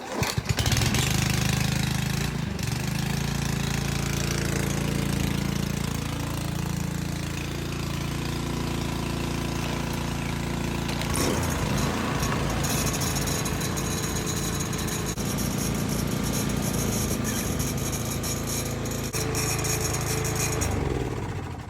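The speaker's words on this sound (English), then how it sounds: "we'll start up both engines and let them run for a couple of minutes" Two running lawn mower engines, a Honda HRU 216 and a Toro TimeMaster 30-inch, idle together in a steady, loud mechanical drone. The small-engine rattle and hum continue throughout with no talking.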